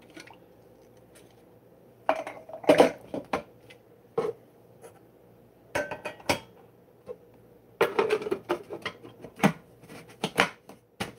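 Knife slicing through potatoes on a cutting board, giving bursts of short crisp cuts and taps in clusters separated by quiet pauses, close and moderately loud.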